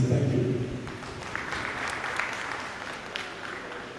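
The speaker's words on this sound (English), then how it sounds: "Let's give him a round of applause again, please." Conference audience in Freetown applauds steadily at moderate volume, the clapping starting strong and tapering slightly while a voice speaks briefly at the start.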